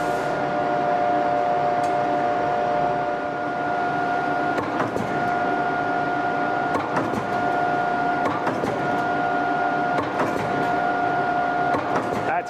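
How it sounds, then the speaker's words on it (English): A press punching knife blade parts from a steel strip in a cutlery factory, with steady loud machinery hum and tonal whine and rhythmic thumps repeating every couple of seconds, a voice speaking underneath. "He takes a strip of steel that he sheared in the press over here, and he's going to punch a couple parts for us."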